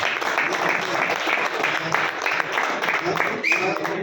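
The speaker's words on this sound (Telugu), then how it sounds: "ఏడిఎంఎస్ యజమాన్యానికి ఒకసారి గట్టిగా క్లాప్స్ ఇస్తాం సార్" A crowd at an ADMS business meeting clapping loudly for the company's management, a dense sustained round of applause with a murmur of voices underneath.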